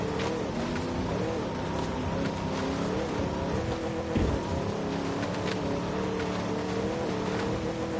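An off-road vehicle in a video game drives over sand dunes, its engine droning steadily and loudly throughout with shifting revs, and a brief bump near the middle.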